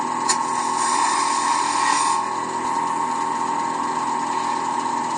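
A wooden blank for a tall, thin-stemmed goblet is roughed into shape on a lathe: a steady, close, high-pitched whine of the spinning wood and cutting tool that runs without a break and without speech.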